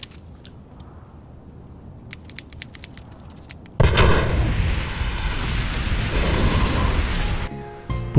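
Building explosion from The Dark Knight, opening with scattered sharp cracks over quiet, then a sudden loud blast that rolls into a long, sustained rumble.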